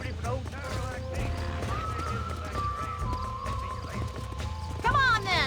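Horse whinnying with hoofbeats in the Western video game Red Dead Redemption, a long neigh rising over steady clip-clop and game ambience, with a louder burst near the end and voices in the background.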